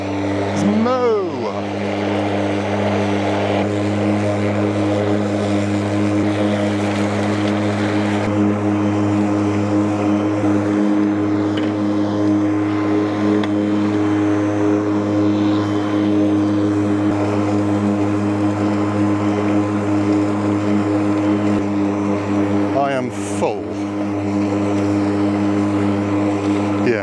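A Cramer Optimus ATM53A lawn mower cuts bone-dry grass, its steady engine drone loud and continuous throughout, with a brief pitch swell near the start and another close to the end.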